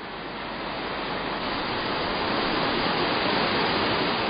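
A waterfall on Geumgangsan mountain roars in a steady, dense rush of water that swells slightly over a few seconds, continuous and unbroken with no voices.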